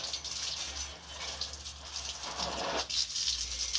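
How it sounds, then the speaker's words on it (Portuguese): Water is poured and sprayed over kitchen chairs being washed, a steady broad gush with a brief heavier splash near the end, close and continuous. "eu vou jogar uma água, né, nas cadeiras"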